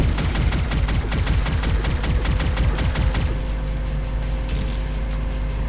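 Rapid automatic gunfire in the video game Doom, run through GZDoom, fires in an even, fast rhythm for about three seconds, then stops, leaving a steady background hum with a faint blip afterward.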